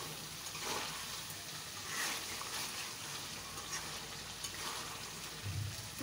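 Beef and potatoes cooking in a pan, a soft steady sizzle and frying hiss with faint stirring, fairly quiet and continuous with no talk.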